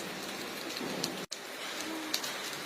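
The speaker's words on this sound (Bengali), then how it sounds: "একদম ঝুমঝুম বৃষ্টি হচ্ছে।" Heavy rain pours down in a dense, steady hiss that cuts out for an instant midway before resuming just as strongly.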